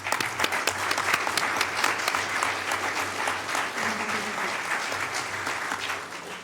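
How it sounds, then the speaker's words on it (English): A room at a Sacramento City Council meeting breaks into steady, dense applause that holds for several seconds, with many hands clapping at once. "That deserves a round of applause."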